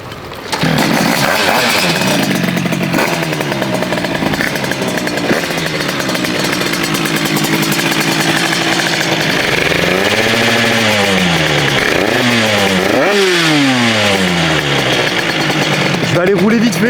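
A 100cc motorcycle engine runs loud and steady on a Shiftech dyno bench, revving up through several rising sweeps near the end, with a voice talking faintly underneath.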